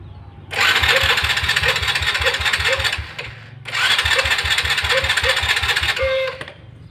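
Honda Supra Fit motorcycle with a stalling fault cranked twice by its starter, each attempt a loud, close whirring, chugging burst of about two and a half seconds with a brief pause between, engine not catching.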